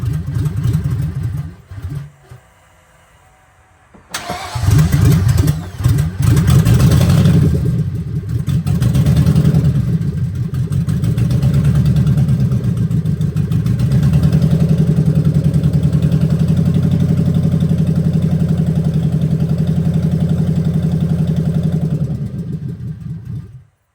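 A car engine starts for the first time after being reinstalled, running without coolant and with its O2 sensors unhooked. Brief cranking and a pause give way to a loud catch, then a steady close, rough idle that drones on until a sudden cutoff.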